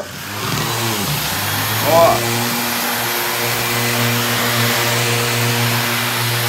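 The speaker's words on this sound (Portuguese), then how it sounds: "E quando eu ligo, ó, o que que acontece no aspirador, ó. O aspirador, ele puxa toda a poeira. Então, eu vou lixar aqui" A random orbital sander connected to a vacuum runs on polished concrete indoors, making a steady motor whine and droning hum that rises after a brief spin-up, while someone talks over it.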